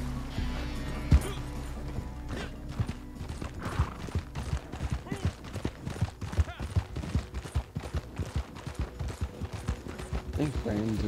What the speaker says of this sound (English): Oh, you're riding my horse.